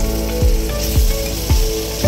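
Onions frying with salt in a pan, a close, continuous sizzle with a regular scraping stroke roughly every half second as the pan is stirred, no talking.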